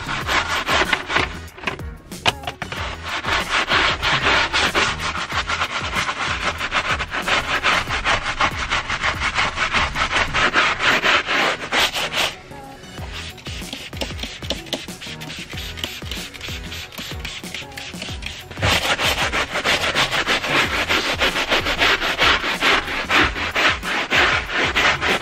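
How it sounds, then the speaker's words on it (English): Steady, close scrubbing of a very dirty minivan's interior: continuous rough rubbing strokes that briefly soften midway before resuming at full strength, with no voices. "And then, once you're done scrubbing,"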